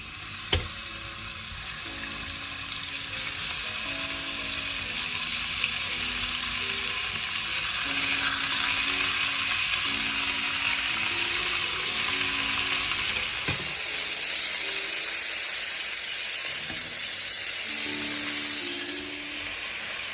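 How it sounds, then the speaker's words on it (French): Beef stew pieces browning in olive oil in a pan, a steady loud sizzle and crackle throughout with occasional stirring clinks and a brief shift midway as the meat is moved. "Et maintenant, on va venir faire dorer, braiser nos morceaux de viande de bœuf."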